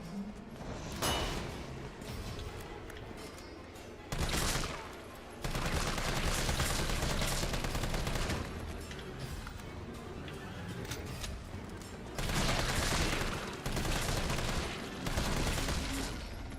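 Loud explosions and rapid gunfire in a video game as an explosive knocks down a pillar, bursts of blasts separated by short lulls.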